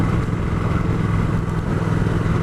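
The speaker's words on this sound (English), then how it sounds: "we're going to have a little ride around, as we're doing now" A Triumph Thruxton RS motorcycle is ridden on the road, its engine droning steadily and loudly with continuous rumble and wind noise, no voices.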